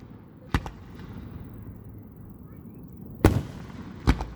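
Fireworks at a June display burst in sharp, loud booms, three distinct reports spaced apart over a low rumbling background, with no speech during the bangs.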